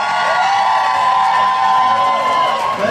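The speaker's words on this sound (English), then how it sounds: "Let's cheer for the blue team" A crowd cheers and whoops for the blue team at a team-building event, a loud, sustained wall of shouting voices with children's yells mixed in, holding steady for the whole stretch.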